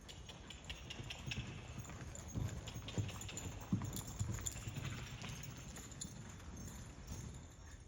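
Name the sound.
horse hooves clip-clopping during training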